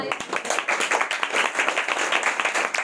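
Congregation clapping loudly at a church teaching session on the crucifixion, a dense, steady stream of hand claps from a crowd close by, with no voices over it.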